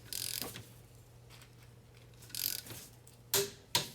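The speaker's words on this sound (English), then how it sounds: "I hope you can hear the torque wrench click" A torque wrench set to 25 foot-pounds tightening a brake bolt on a Mercedes/Dodge Sprinter van: quiet ratcheting creaks, then two crisp metallic clicks close together near the end, with no talk.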